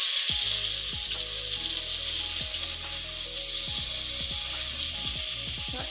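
Mixed vegetables frying in hot oil for a fish-head and cauliflower dish give a steady, bright sizzle, broken by occasional clatters and scrapes of a utensil in the pan, with no voices.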